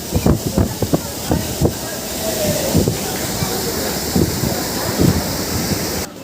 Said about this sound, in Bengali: আমাদের ট্রেন এই মুহূর্তে এসে পৌঁছালো দক্ষিণেশ্বর স্টেশনে